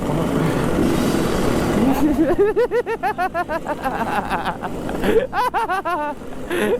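A Yamaha RX King two-stroke motorcycle is revved repeatedly at a street meetup in Makassar, its engine climbing and falling in quick bursts over a rumble of crowd chatter and wind.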